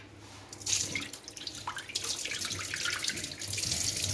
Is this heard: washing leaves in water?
yes